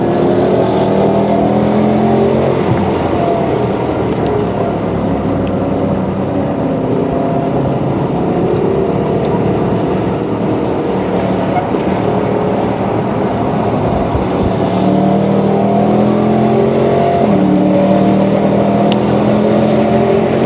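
A Dodge Charger R/T's mostly stock 5.7 Hemi V8 drones loudly and steadily with a deep rumbling tone, revving and shifting pitch as it drives, continuous throughout.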